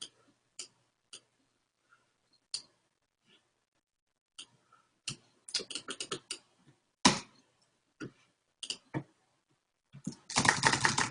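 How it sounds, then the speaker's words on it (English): Scattered clicks of typing on a computer keyboard, sparse single keystrokes at first, then quicker clusters and a dense burst of taps at the end, close and fairly quiet. "I just type like that."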